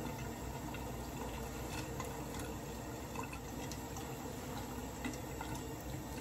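Warm water runs and splashes steadily as a washcloth rinses a face during a skin care routine, a soft continuous trickle with faint drips and no talking.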